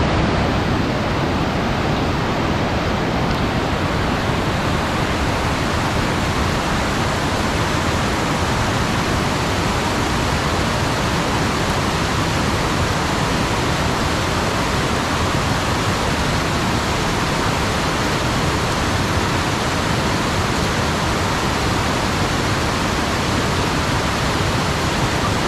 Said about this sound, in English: So the stream's almost in spate.